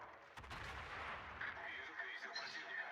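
A warship fires a volley of HE shells in a naval battle game, a heavy booming salvo with overlapping blasts and rumbling echoes that roll on for a few seconds.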